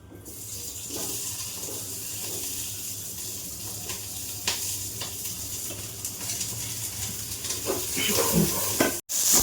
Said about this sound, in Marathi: हा कांदा आहे तो आपण छान तेलात असा परतून घेऊया डार्क होईपर्यंत